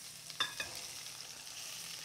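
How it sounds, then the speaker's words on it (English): Steady hot oil sizzle as it is poured into a potato kugel mixture, with a couple of sharp clicks near the start, then a continuous crackling hiss from frying. "we're gonna add our hot oil. Wait for the sizzle."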